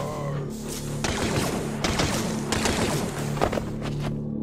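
Blaster-style gunfire in the Star Wars Death Troopers game, repeated loud bursts of shots and impacts over a continuous droning backdrop.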